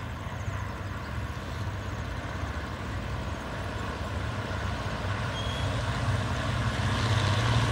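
A Hitachi 4504 diesel locomotive rated at 2,500 horsepower, made in Japan, idles steadily while hauling a Thai special express train. The low engine rumble runs alone without a break and swells gradually toward the end.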